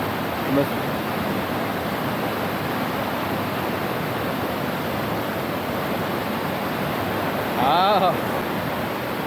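A private waterfall near Munnar, its steady broadband rush of falling water filling the whole clip evenly and loudly, with a brief faint chirp or voice near the end.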